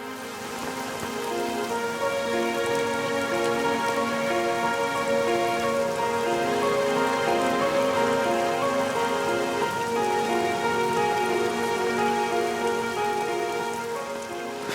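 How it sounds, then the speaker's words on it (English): Heavy rain pours steadily onto a hard surface, a dense continuous patter with no pauses and no voices. "it suddenly started to rain."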